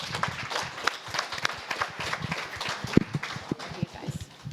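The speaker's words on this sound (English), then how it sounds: "let's give a round of applause for our panelists" Audience applause for panelists at a patient and caregiver event, fairly quiet and thin, with individual claps standing out irregularly rather than forming a dense roar, plus faint low murmuring.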